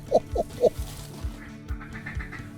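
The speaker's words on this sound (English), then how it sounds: "Vince, look at the ducks over the trees there to your left." Mallard ducks quack outdoors on a duck hunt, several short nasal quacks in quick succession at the start, then fainter calls trailing off over low background noise.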